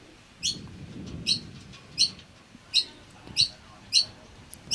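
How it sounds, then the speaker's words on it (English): Small birds squabbling over shared food near a lawn bowls green at a para bowls pairs final, giving six sharp, high chirping bursts at a steady rhythm close by over low outdoor background noise. "bird right in front of us. If you can hear that in the microphone, they're just sharing food."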